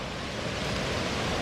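The Dadou river flows past, a steady broadband rush of moving water heard alone and fairly faint, with no break across the short stretch.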